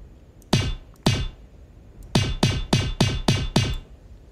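Gunfire from a weapon in the video game Zerahypt: two separate shots, then a rapid burst of six, each a sharp loud crack with a short decaying tail, no talking.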